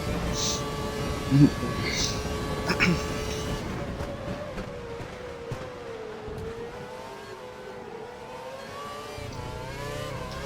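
F1 race car engines roar in F1 2012 at Suzuka, Japan, a pack of cars droning and whining with shifting pitch, loud at first then thinning to a steadier distant hum.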